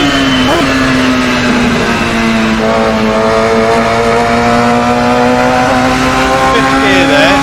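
Radical SR3 XXR race car in Assetto Corsa, its high-revving engine holding a loud, steady, close drone throughout, with the pitch dipping slightly and then climbing again near the end.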